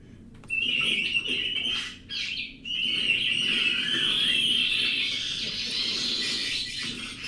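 A bird call recording: a high, sustained whistling trill with a few brief breaks, loud and clear against faint background noise.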